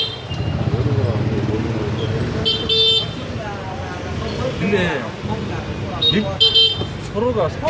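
Car and motorbike horns toot in busy Hanoi street traffic, short beeps scattered over steady engine and road noise, with people talking throughout.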